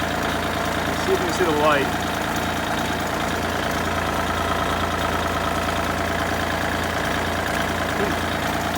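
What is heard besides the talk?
Kubota L2501 diesel tractor engine idling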